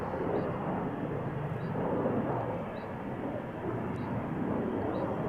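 Broad, steady jet roar of a Lufthansa Airbus A340 at Amsterdam Schiphol Airport, a continuous loud rumble with slight swells that fills the whole stretch, no voices over it.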